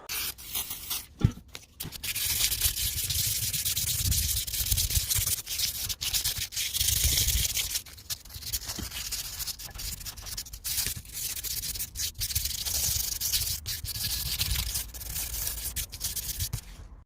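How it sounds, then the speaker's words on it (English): Steady, continuous abrasive sanding of Subaru alloy wishbones with WD-40, a close rasping rub on metal that runs the whole time with brief pauses and no talking. "after a good while of sanding and WD-40"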